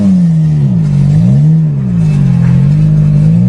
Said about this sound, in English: She revs quicker, it's got more stronger power.